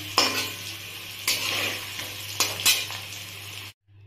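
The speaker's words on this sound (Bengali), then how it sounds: "এবার আমি আলুগুলোকে সব তুলে নেব।" Fried potatoes are scooped out of a pan of hot oil, with a steady sizzle and several close metallic scrapes and clinks of the spoon against the pan, ending in abrupt silence.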